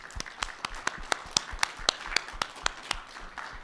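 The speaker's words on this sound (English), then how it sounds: "We're going to give you a round of applause for anyone who's a nurse aide." Scattered hand claps ring out in an uneven rhythm, a small group applauding nearby, sharp individual claps rather than a roaring crowd.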